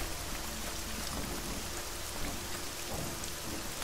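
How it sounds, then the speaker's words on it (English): Rain and thunder in a video game, a steady dense hiss of rainfall with a low rumbling undertone, even and continuous, with no voices. "Okay, it's raining."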